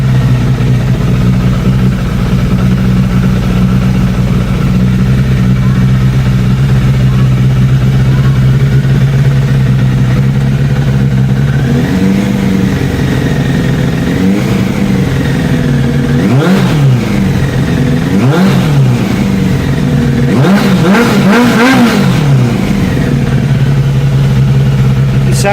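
A Suzuki Bandit 600 motorcycle engine idles with a steady loud low throb, then revs up several times in rising and falling blips toward the end, close and dominant.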